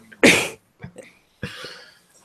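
A person coughing, a loud harsh burst followed by a couple of smaller hacks and then a second rougher cough, close to the microphone with short silences in between.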